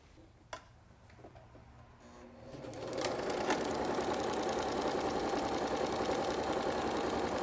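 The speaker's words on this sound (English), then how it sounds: "Then I'm gonna run this through the sewing machine about 3/8 of an inch from the top" A sewing machine stitches along the top edge of a fabric placemat, its motor starting softly and then running in a steady, close, continuous rapid whir of needle strokes.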